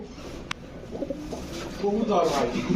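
Pigeons coo softly in a busy pigeon market, their low warbling calls mixed with nearby talk and a sharp brief click.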